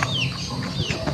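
A chicken clucks and squawks in short bursts over a busy, noisy background, fairly close, in the countryside of Bicol, Philippines.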